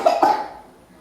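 A child gives two quick, close coughs in a home setting, the second slightly stronger, followed by a fading breathy tail and quiet room noise.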